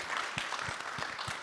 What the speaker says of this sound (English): Let's clap for Terence.